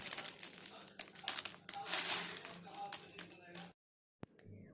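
Crunchy rattling and crinkling as small dry jaggery-caramelized fox nuts (makhana) are shaken and stirred, with a brief silence near the end.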